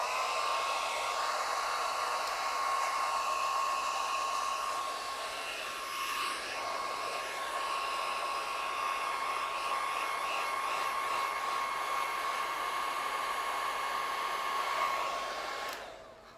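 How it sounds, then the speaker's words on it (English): A hair dryer blows steadily and loudly for the whole stretch, a constant whirring rush with a faint high whine, cutting off abruptly at the end. "If it's taking a little bit longer for your adhesive to dry, you can take a hairdryer."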